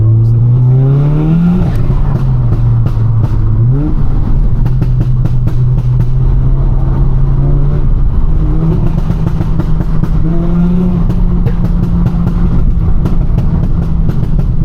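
A loud, tuned Audi S3 engine revving hard and shifting through gears on a country lane, pitch climbing and dropping repeatedly, close up and continuous.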